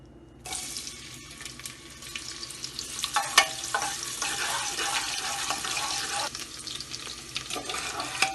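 Onions go into hot oil in a pan for an aloo gobi base and sizzle steadily, a loud, close, continuous hiss with bursts of crackle that stays strong throughout.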